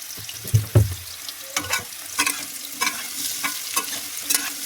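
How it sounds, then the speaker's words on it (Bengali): Potatoes fry quietly in a pan with onions, with a soft sizzle broken by repeated scraping and stirring taps at an uneven pace. "সেই সাথে সাথে আমি আলু পোস্তটা ভেজে নেবো।"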